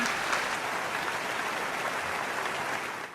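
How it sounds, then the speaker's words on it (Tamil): A dense wash of audience applause fills the hall at a live band concert. The clapping is loud and steady, then fades slightly at the very end. "அரங்கம் நிறைந்த கரகோஷம்."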